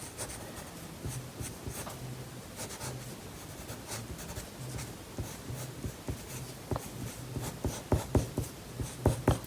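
A pencil sketches a loose fashion illustration of a clothed figure on paper, with close scratchy strokes that grow sharper and more rhythmic toward the end.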